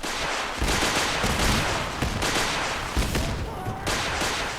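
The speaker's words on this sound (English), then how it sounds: "Those Gatling guns and the missile launchers not only are really effective against your turrets, but they're also effective against you." Gatling guns and missile launchers fire in Fallout 4 combat during a settlement ambush, with dense bursts of rapid gunfire and heavy blasts rolling over each other continuously, loud and chaotic.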